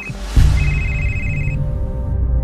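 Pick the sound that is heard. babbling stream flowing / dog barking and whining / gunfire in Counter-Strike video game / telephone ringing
telephone ringing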